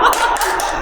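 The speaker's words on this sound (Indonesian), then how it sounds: "Tepuk tangan buat Brian" Group of people clapping in a short, brisk burst, with sharp repeated claps close by and a touch of laughter mixed in.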